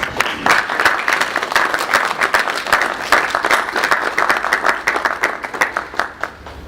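Loud, close applause from an audience at a trust launch event, many hands clapping in a brisk, uneven patter with crisp individual claps standing out, continuing steadily before tapering.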